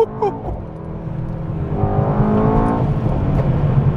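A Mercedes-AMG GT 63 S 4MATIC+ 4-Door Coupe driving hard through corners: a steady, close engine drone heard from the cabin swells into a rising, revving tone midway, then holds a strong, loud hum to the end.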